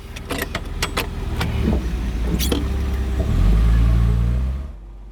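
A Mercedes-Benz 280SL starting to drive off: a few sharp clicks and jingles up front, then the engine note swells into a loud low rumble as the car pulls away, fading out at the end.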